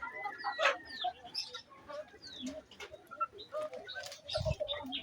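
Native hens clucking in a farmyard, several soft bursts of clucks and chirps scattered at close to mid distance, with a brief low thump near the end.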